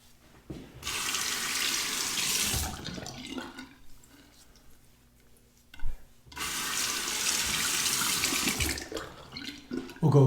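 Tap water runs into a sink to rinse a copper open comb safety razor during a shave, a steady rushing flow in two long bursts separated by a quieter gap with small knocks.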